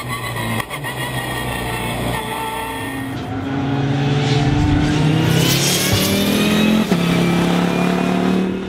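A Lamera Cup race car's turbocharged engine revs hard on a circuit, a loud, steady roar that climbs in pitch and swells louder midway, with a brief blip near the end.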